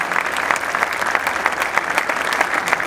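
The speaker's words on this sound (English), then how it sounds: "And I'd like a round of applause for Henrietta Wilkens" A crowd applauds at a statue dedication ceremony in Seattle, with continuous, moderately loud clapping and scattered cheers.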